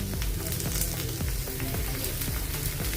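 A semolina and chana dal breakfast snack sizzles steadily in oil in a pan, a dense close frying crackle that runs without pause.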